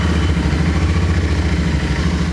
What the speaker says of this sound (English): the next step would be to turn on your engine and have it run for at least 10 minutes